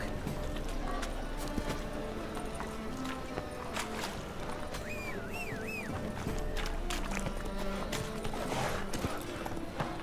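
Roach, the horse in The Witcher 3 Wild Hunt, trotting with a continuous clip-clop of hooves under game ambience and music, with a brief whinny-like rising tone midway.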